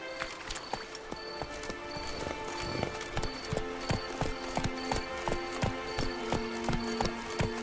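Hoofbeats of Roach, the horse in The Witcher 3, clip-clop in a steady rhythm beside layered tonal game sounds, moderately close and continuous throughout.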